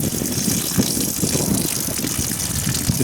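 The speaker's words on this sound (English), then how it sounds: "I'm going to open the hot water low point drain." Water rushes steadily out of a camper's hot water low point drain, making a loud, continuous gushing hiss close by, with no talking.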